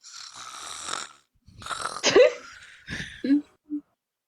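Cartoon clock snoring, with a voice imitating the snore: breathy, raspy inhales and exhales rising into a gurgling snort, then two short low grunts, close and clear with gaps of silence between.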